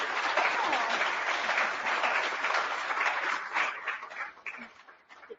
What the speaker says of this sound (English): I would like you to give a round of applause.